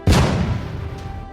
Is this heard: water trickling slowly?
no